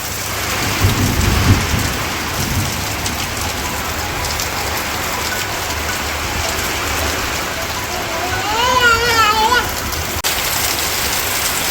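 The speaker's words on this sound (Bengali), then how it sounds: "প্রচুর বৃষ্টি হইতেছে" Heavy rain pours down in a village with a dense, steady hiss throughout, a low rumble of thunder near the start, and a voice briefly rising over the downpour toward the end.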